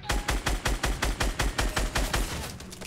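Rapid automatic gunfire in the battle royale game Fortnite, a steady burst of about a dozen evenly spaced loud shots close by, with no talk over it.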